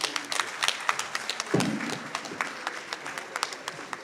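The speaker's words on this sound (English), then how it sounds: "another round of applause" A book launch audience gives a short round of applause, scattered sharp claps that come in a loose, uneven rhythm, moderately loud, with a brief low rumble partway through.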